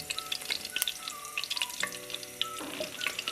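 Cumin seeds sizzling in hot oil and ghee at the start of a chicken gravy, a dense close crackle of rapid pops over a faint steady hum, no voices present.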